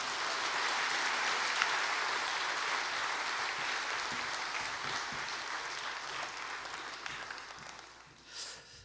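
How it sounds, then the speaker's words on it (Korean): A church congregation at Jangchung Church applauds to welcome the pastor, a broad, sustained wash of many hands clapping that fades gradually toward the end before a brief final swell. "큰 박수로 환영해 주시면 감사하겠습니다."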